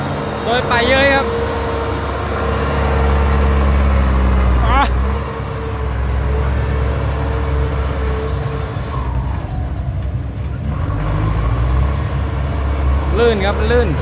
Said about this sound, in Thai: มาแล้วรถไถมาทำทางแล้ว